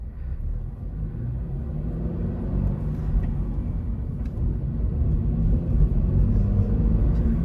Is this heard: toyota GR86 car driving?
yes